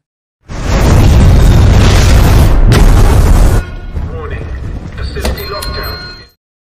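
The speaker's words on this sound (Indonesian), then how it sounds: "Spectre membawa Obruchev beserta sampel Heracles tadi kabur, dan mereka meledakkan lab tersebut dengan tujuan menghilangkan jejak" A loud, sustained roar from the explosion that blows up a lab in the James Bond film No Time to Die, lasting about three seconds, cutting off sharply and giving way to a lower rumble with scattered debris and crackles.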